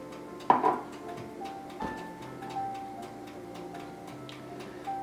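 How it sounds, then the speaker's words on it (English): A kitchen timer ticks steadily in a quiet kitchen while muffins bake, broken by a sharp clink of dishes near the start. "Timer sounds like you're on a ticking time bomb here for the muffins"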